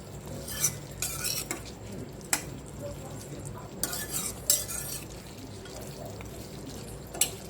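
Chicken curry being stirred in a pot, with soft intermittent scraping and clinks of a spoon against the metal over a low cooking background, spaced out across the stretch.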